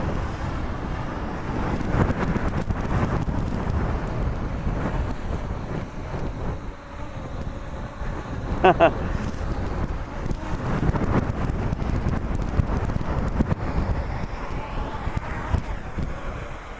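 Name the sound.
strong wind gusts on microphone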